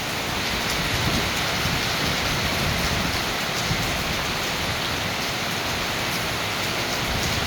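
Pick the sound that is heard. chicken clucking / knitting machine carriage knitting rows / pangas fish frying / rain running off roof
rain running off roof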